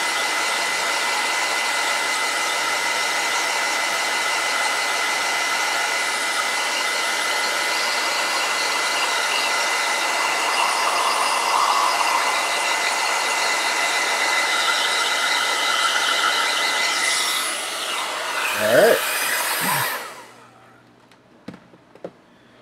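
A hair dryer blows steadily and loudly at close range, drying a painted layer on the neck of an Obliterator skin, a constant roar that shifts briefly and then cuts off near the end.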